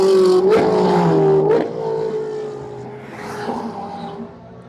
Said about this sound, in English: That first car was the 458 Challenge.